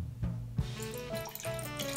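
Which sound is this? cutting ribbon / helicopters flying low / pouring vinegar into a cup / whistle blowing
pouring vinegar into a cup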